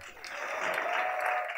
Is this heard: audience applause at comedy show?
yes